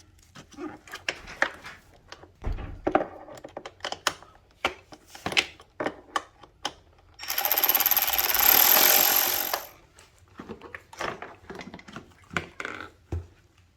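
Allen bolts are worked loose on a 2016 Kawasaki ZX10 motorcycle during a starter replacement. Scattered close metallic clicks and scrapes surround a sustained rasping burst of a few seconds in the middle.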